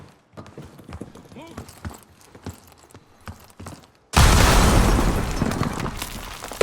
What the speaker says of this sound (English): Grenade, look out!